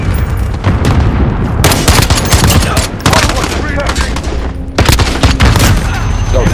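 M14 rifle fire from a helicopter door gunner, rapid loud bursts of shots over the steady roar of the chopper, with short pauses between volleys and voices faintly mixed in.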